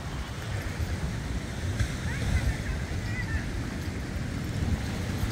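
Surf breaking hard against a rocky edge at Playa La Pocita de la Princesa in Isabela, Puerto Rico, with a steady, close, loud wash of water and wind buffeting the microphone, while people talk and exclaim over it.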